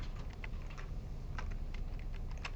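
Rapid computer keyboard typing while code is edited: a quiet, close string of light key clicks in an uneven rhythm over a low background hum, with no talking.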